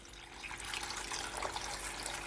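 Water poured into a bowl while making carrot and orange juice, a soft, steady splashing and trickling that grows slightly louder as the pour continues, quiet and close with no talking.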